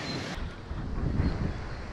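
Strong wind buffeting the microphone outdoors at a carp fishing spot by the water in May, a continuous loud, low roaring rush with gusts swelling midway and no talk.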